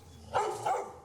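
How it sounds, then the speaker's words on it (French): Two quick, deep barks from a large dog ring out close by in a Costa Rican neighbourhood, one right after the other, against a quiet background. "Et des gros chiens."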